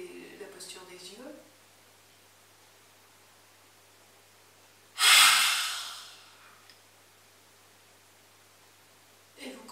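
A forceful lion-pose exhalation in yoga comes as one loud, breathy, rasping gush that fades over about a second, with soft speech before it and a faint breath at the end.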